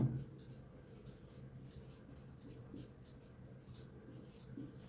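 A teacher's pen or chalk scratches across a board in short, quiet rhythmic strokes during an electrician theory class, faint and close with a low background hum.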